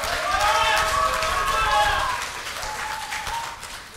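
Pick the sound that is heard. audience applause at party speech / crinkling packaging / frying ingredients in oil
audience applause at party speech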